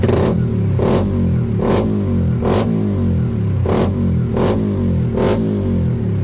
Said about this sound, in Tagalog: simulan muna natin dito sa engine response and throttle response